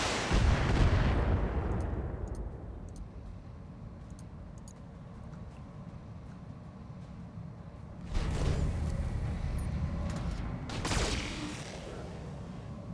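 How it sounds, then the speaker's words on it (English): Heavy gunfire and booming blasts in a video game battle around a trebuchet, loud bursts at the start and again near the end, with a rumbling low background between them. "Why are you shooting at my trebuchet?"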